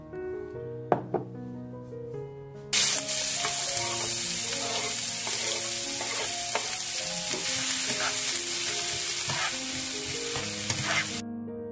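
Onions fry in a pan with ginger garlic paste: loud steady sizzling starts suddenly and holds for most of the stretch, with spoon stirring scrapes and knocks on the pan, and a few quieter taps before the sizzle begins.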